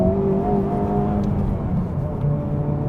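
Steady engine drone from a 2023 Honda Civic Type R accelerating on a wet, slippery road, a loud continuous hum with shifting tonal layers and no talk over it.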